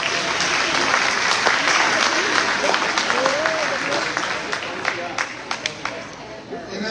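Applause for college graduates at a graduation celebration, a dense, sustained clapping from a large audience that thins near the end into a few separate claps.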